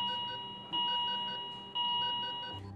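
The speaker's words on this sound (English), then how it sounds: "Then the alarms begin to ring as emergency batteries kick in" Steady electronic alarm tones ring from hospital baby life-support machines running on emergency batteries after the generators fail during Hurricane Sandy, the sustained beeping pausing and restarting twice at moderate volume.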